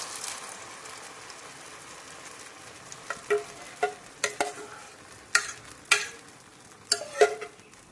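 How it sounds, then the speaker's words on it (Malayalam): Ground jackfruit paste is stirred into hot ghee in a pan. Quiet sizzling sits under a run of distinct scraping strokes that grow more frequent and louder over time. "ഇത് നന്നായിട്ടൊന്ന് മിക്സ് ചെയ്തെടുക്കണം. ചക്കയും നെയ്യും നന്നായിട്ട് മിക്സ് ആകണം."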